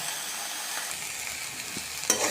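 Banana stem being stir-fried in a pan, a steady soft sizzle with scraping stir strokes and a brief louder clatter near the end, no voices.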